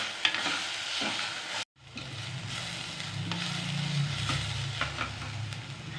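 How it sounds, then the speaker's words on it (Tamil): Onions sautéing with a clove and a small piece of cinnamon stick, steady sizzle with scraping stir strokes throughout, a brief break near the start, no talk, in a crab gravy preparation. "வெங்காயம் வதங்கும் போது ஒரு கிராம்பு, ஒரு சின்ன பட்டை துண்டு போட்டுட்டு"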